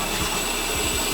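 A toilet flushes with a steady, loud rush of water that fills the whole moment, with faint rhythmic low gurgles underneath and no voices.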